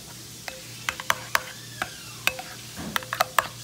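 A little ginger is stirred into a pan, with a few sharp spatula clicks and scrapes over a faint, quiet sizzle and no voices.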